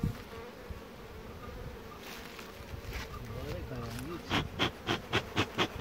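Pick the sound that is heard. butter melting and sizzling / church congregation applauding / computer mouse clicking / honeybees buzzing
honeybees buzzing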